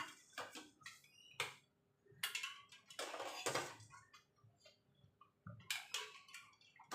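Boiled eggs and potatoes are lifted and dropped into cold water in a quiet kitchen, with a series of faint splashes, clinks and knocks at irregular intervals and short silences between them.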